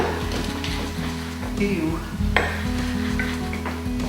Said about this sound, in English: Can you hear it getting foamy?